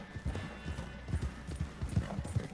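Horse hooves clip-clopping in a PS4 video game, a steady close run of hoofbeats repeating in quick rhythm for the whole stretch, with no talk over them.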